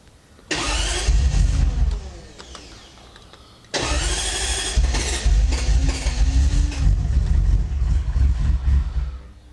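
An old car engine cranks and catches twice: a first start that runs briefly and cuts out, then a second start settling into a loud, rough, close idle with some revving.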